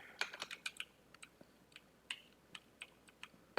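Quick bursts of keystrokes on a computer keyboard, close and faint, tapped in an irregular rhythm with short pauses between clusters of clicks.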